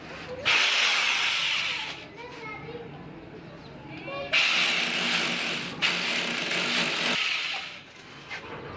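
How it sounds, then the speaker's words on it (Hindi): Electric drill boring into a wall to mount an instant geyser, two loud sustained bursts of whirring drilling separated by a pause filled with talk, with speech continuing underneath. "अब इसका ड्रिल करेंगे और इसमें राउंड प्लग लगाएंगे"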